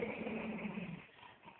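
A Yorkie dog at bedtime makes a low, close rumbling growl for about a second that trails off into quieter whimpering noise, with no talk.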